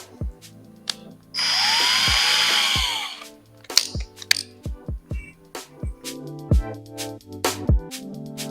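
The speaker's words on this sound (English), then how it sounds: "I'm gonna start off small, work myself up a little bit, and then use the right size drill bit" A power drill whines steadily for about two seconds while boring into aluminum during an Audi water-methanol injection install, then sharp metallic clicks and tapping follow in an irregular run, close to the mic.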